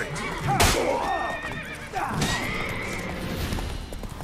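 A horse in The Witcher 3: Wild Hunt gives a loud whinny, then a second neigh, with hoof clip-clop and a voice mixed in.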